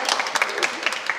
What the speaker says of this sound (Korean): 이거 박수 한번 부탁드리죠